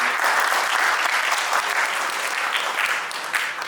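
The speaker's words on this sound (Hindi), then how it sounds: "तालियां तो बजनी चाहिए" Loud, close applause from a business summit audience, a thick continuous wash of clapping that swells slightly and tapers near the end.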